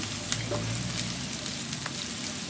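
Garlic frying in oil while it turns golden, making a steady, close, crackling sizzle with small pops throughout, with no talking.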